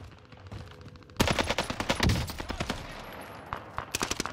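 Video game gunfire on the Caldera map: a dense burst of rapid shots cracks out, followed by several shorter volleys of loud automatic fire, with brief pauses between bursts.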